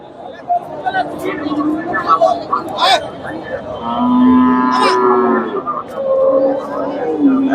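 A nine-month-old heifer at a cattle market lows in several loud, drawn-out moos close by, mixed with voices of people talking around it.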